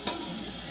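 Five cut onions fry in a pan while chicken is being cooked, a short burst of close sizzling with a scrape of stirring at the start.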